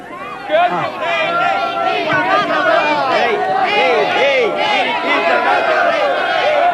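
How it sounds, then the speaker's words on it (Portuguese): A debate audience for Quevedo boos and jeers the opposing Inri Cristo side, a dense continuous crowd din of shouting voices and babble, loud and close, sustained throughout. "a torcida do Quevedo, ó, vaiando o pessoal do Henrique Cristo"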